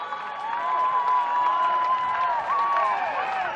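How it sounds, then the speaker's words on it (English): A large stadium crowd of a few thousand cheering and roaring at a college baseball game, a sustained loud swell with whoops and shouts rising over it. "Crowd comes to its feet."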